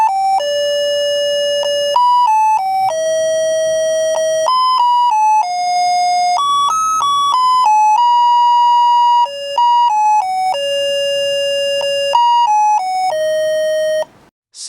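A simple melody generator IC, a UM66T or HT3810 type, plays a continuous electronic doorbell tune for about fourteen seconds. It is a steady chain of pure, bright tones with stepped pitch changes, loud and clear, and it cuts off sharply at the end.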